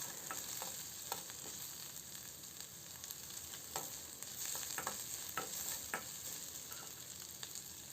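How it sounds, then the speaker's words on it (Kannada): Onions fry in a pan with a quiet, continuous sizzle, punctuated by light intermittent scrapes and taps of a stirring spoon throughout. "ಸೊ ಈರುಳ್ಳಿ ಚೆನ್ನಾಗಿ ಫ್ರೈ ಮಾಡ್ಕೊಬೇಕು"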